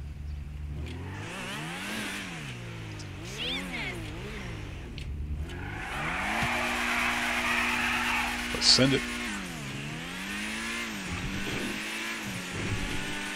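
A Pegassi Torero, a Lamborghini Countach-style sports classic driven in GTA 5 Online, revs loudly with its engine pitch swooping up and down through gear changes and a brief tire squeal, while a voice briefly calls out.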